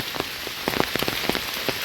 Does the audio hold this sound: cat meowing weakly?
no